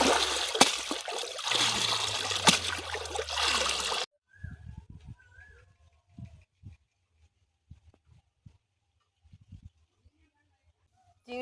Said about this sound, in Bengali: পুকুরের জলে ভালো করে চটকে চটকে শাকগুলোকে ধুয়ে নিচ্ছি।